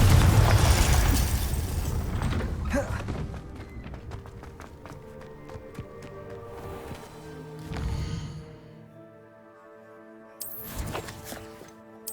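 A Confringo fire spell explodes in Hogwarts Legacy, with a loud opening blast that rumbles and crackles away, joined later by further bursts and magical shimmering chimes over a game score.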